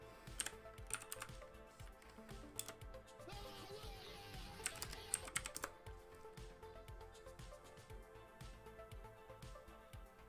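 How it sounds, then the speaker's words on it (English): Quick, uneven clatter of typing on a computer keyboard, with close, crisp keystrokes in bursts and a faint background hum. "I apologize for my keyboard."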